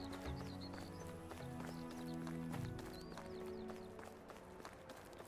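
Rhythmic hoofbeats of a horse being ridden in the medieval survival game Medieval Dynasty, a steady clip-clop gait repeating throughout at moderate volume over a quiet game ambience.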